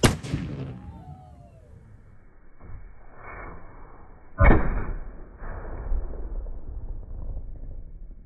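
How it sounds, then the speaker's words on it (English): A cannon fired during a demonstration for kids on a remote island, giving one loud booming blast midway with a rumbling tail, preceded and followed by quieter outdoor ambience. "they showed us how to load a cannon and then shoot it."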